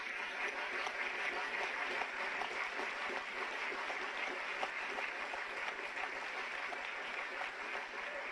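Sustained applause from an assembled audience at a closing session of a Cuban government parliamentary period, honoring educators and literacy teachers; a thick, even wash of many hands clapping, steady and unbroken from start to finish.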